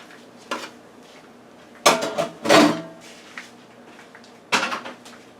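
A metal utensil scrapes around the edges of an air fryer oven pan holding eggs, ham and home fries, giving a few short clattering scrapes with quiet pauses between them.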